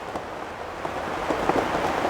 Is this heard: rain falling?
yes